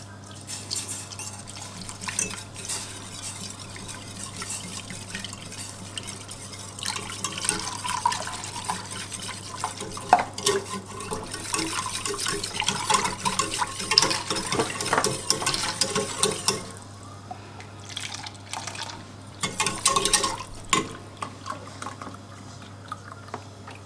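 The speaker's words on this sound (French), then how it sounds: "donc j'ajoute ma farine. Et je vais délayer du coup avec 400 ml de lait." Milk, 400 ml of it, being poured and stirred into melted butter and flour in a pan, giving a steady wet sloshing and scraping with soft drips over a constant low hum, swelling in the middle and briefly again near the end.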